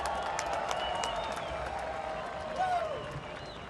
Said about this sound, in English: You can hear the crowd loving what they're seeing as he gets his helmet off.